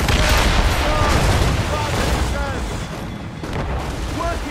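Ship cannons fire a broadside in a naval battle in Assassin's Creed Rogue, heavy continuous booming and rumbling with crew shouting over it, loud and close throughout.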